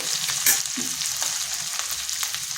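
Ground cumin hits hot oil in a pan while cooking a vegetarian cabbage dish, giving a loud, steady sizzle and crackle with a brief sharper scrape of stirring near the start, close and with no talking.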